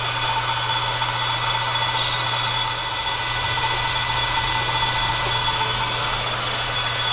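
Electric motor rotor shaft turning on a lathe while polished with 120 grit sandpaper, a steady motor hum with a continuous abrasive rubbing hiss that briefly grows harsher, close, with no talk.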